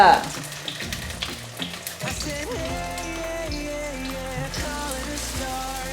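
Tofu steak fries in a pan, a steady sizzling crackle running throughout, with background music playing over it.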